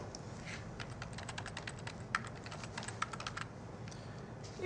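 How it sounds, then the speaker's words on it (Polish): A web address being typed on a computer keyboard: a quick, irregular run of light key clicks, close but soft, over a faint steady room hiss with no talk. "Wpisuję adres strony internetowej."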